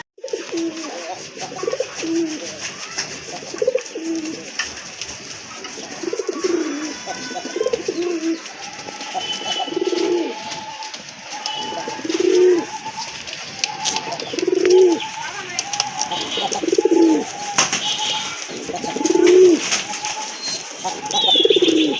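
Pigeons coo repeatedly in a mixed collection of deshi and foreign birds, the low rolling coos rising and falling in a steady rhythm close by, with light background noise and occasional soft voices.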